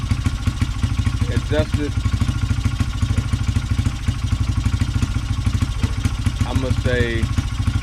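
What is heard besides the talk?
2003 Honda XR80R motorcycle engine running after carburetor fix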